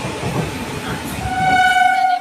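A train at a railway station rumbles loudly nearby, its steady clatter joined partway through by a sustained horn tone that swells and holds until the end.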